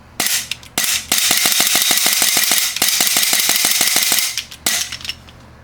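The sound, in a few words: GHK Gen 3 Glock airsoft pistol shots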